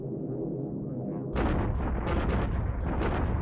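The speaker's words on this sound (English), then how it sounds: "Wow, that's a pretty significant bombing run there." Heavy booming explosions from a bombing run in the war game War in the Pacific, starting as a low rumble and then breaking into dense, loud overlapping blasts that last to the end.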